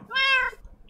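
A single short cat meow in the Minecraft video game, clear and fairly close, with no talking over it and only faint background noise before and after.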